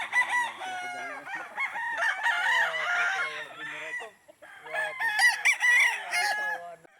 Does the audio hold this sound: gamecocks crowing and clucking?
yes